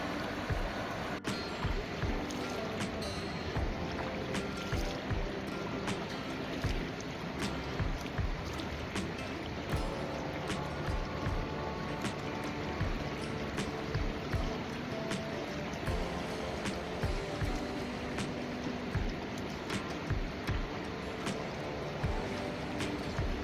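Flowing stream water at dusk near Silleuksa temple, a steady broadband rush with small splashes and clicks throughout, fairly close and continuous with no talking.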